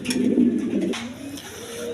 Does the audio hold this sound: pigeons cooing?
yes